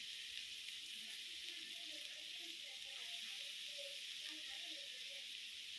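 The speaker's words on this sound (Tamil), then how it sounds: "அதை நல்லா நீங்கள் வதக்கிக்கோங்க" Finely chopped onions sautéing in groundnut oil in a pan for kothu parotta, a steady, faint sizzle with soft scattered crackles, continuous and close, no voices.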